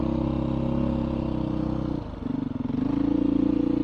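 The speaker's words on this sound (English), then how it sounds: "Utilizing the engine braking right now, going down the hill here." A 2021 Beta 500 RRS dirt bike engine-brakes down a tight trail hill with a steady low drone and a pulsing, burbling exhaust. It dips briefly in the middle, then rises again, loud and close to the rider.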